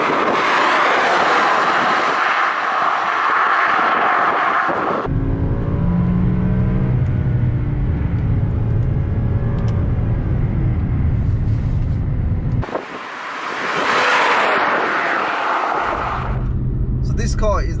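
BMW E60 M5 with its V10 engine, revving hard and loud, then dropping into a deep, rumbling low-gear engine note with harmonic sweeps, then rising again; speech sits underneath at points.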